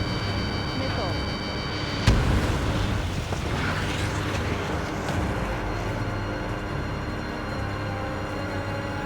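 A missile explosion in the Ace Combat 7 jet combat game: a sharp blast near the start, then a dense, sustained roar of engine and battle noise that fills the scene, with radio voices talking over it.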